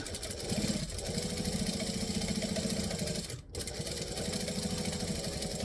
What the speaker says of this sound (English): I'm going to do a 4 stitch length for this, and I'm just going to stitch and then back stitch